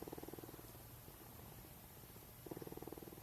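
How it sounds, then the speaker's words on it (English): Quiet, close rumbling purr of a cougar that pulses steadily, with louder rhythmic bursts at the start and again near the end, over soft background hiss. "enjoy watching him right now and listening to him purr"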